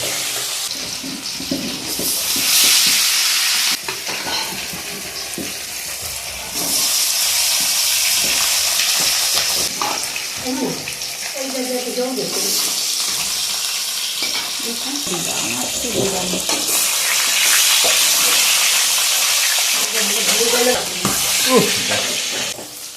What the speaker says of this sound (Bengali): প্রথমে মাছগুলো ভালো মতো ভেজে নিল।